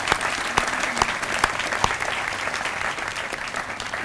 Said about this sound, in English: Please join me in a round of applause for them as well.